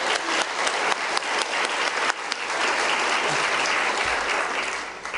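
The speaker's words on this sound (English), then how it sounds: "Let's give them a round of applause, please." A large audience at an ethics speaker series event breaks into loud applause, starting with distinct claps that swell into dense, sustained clapping before tapering off, with a faint murmur of voices.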